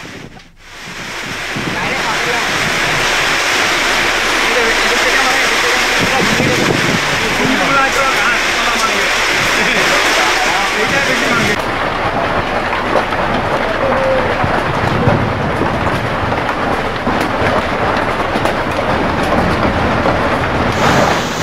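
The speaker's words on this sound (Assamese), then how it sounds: "ঠায়ে ঠায়ে আৰম্ভ হৈছে ধুমুহা বৰষুণ" Heavy storm rain in Assam, arriving amid intense heat, pours as a dense, steady roar with gusting wind, loud and close throughout, easing only slightly in its upper hiss about halfway through.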